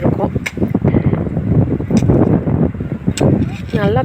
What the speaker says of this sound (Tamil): ஈவினிங் நல்லா காற்று அடிக்குது